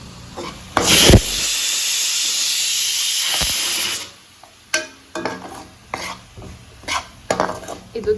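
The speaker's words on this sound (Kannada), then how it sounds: "ಈಗ ಚೆನ್ನಾಗಿ ಫ್ರೈ ಮಾಡೋಣ." Palak rice ingredients frying in a pan, a loud sustained sizzle and hiss lasting a few seconds, then dropping to quieter intermittent clatters and scraping stirs.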